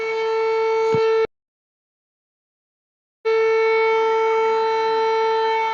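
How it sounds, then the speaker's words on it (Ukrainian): A loud, steady civil-defense siren blares with a sustained tone after an explosion in Russia, cuts out completely for about two seconds, then resumes at full strength. "Орет сирена, никого нет."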